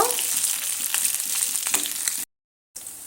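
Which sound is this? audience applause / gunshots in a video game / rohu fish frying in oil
rohu fish frying in oil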